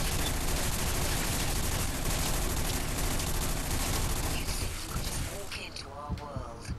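Sustained gunfire in the shooter game Bodycount, a dense rattling fusillade of rapid shots that fills most of the moment and then trails off into scattered bursts with a voice at the end.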